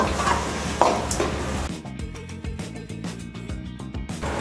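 Boiled mutton tossed into a pan with ginger-garlic paste, coriander and curry leaves for a butter pepper fry, sizzling loudly and then giving way to rhythmic stirring scrapes and clinks against the pan.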